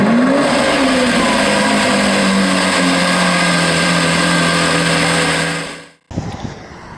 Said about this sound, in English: this is the Polaris Slingshot. It is a three-wheel vehicle.